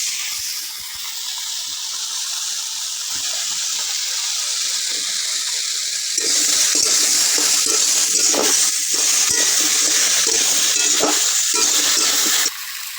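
A ginger, cumin and black pepper paste hits hot oil in a pan for a rohu fish curry. A quiet hiss swells midway into a loud, dense sizzle with bubbling that holds steady, then drops back near the end.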